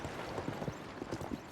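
Horse hooves galloping in Zelda Tears of the Kingdom near Hateno Village, a quick soft rhythmic clip-clop at moderate distance with a steady beat throughout.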